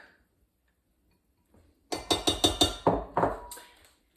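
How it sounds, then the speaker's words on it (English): A spoon clinks against a container while oils are stirred into homemade body butter, a quick series of about eight bright, close taps after a short quiet pause, then fading out. "I'm going to stir my oils into my butter"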